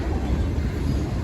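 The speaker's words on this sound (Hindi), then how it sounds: "रेलवे स्टेशन पर दाखिल हो चुकी हमारी गाड़ी और हल्की रफ्तार में गुजर रही है यहाँ से" Shalimar Express train rolling slowly into Gojra railway station, a steady low rumble heard from on board, continuous and even with no distinct clacks.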